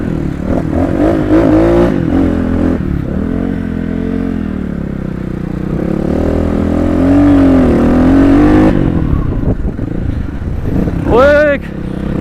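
Motorcycles on an off-road group ride near Baglung bazaar: engines rev and rise in pitch with rattling and scraping, while riders talk loudly over the motor noise.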